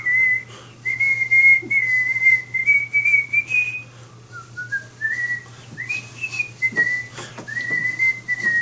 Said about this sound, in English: I've been whistling it ever since I've watched this movie